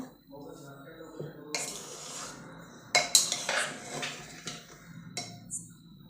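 Cooked rice being mixed in an opened pressure cooker: a few metallic clinks and scrapes of a ladle against the pot, close and moderately loud, with short pauses and a little background noise.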